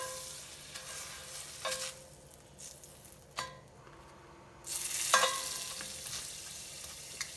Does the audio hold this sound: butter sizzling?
yes